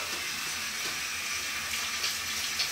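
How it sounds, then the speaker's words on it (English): Hot water runs from a tap for handwashing with bar soap, a steady, even rushing splash that continues unbroken at close range with no one speaking. "I've turned the hot water on."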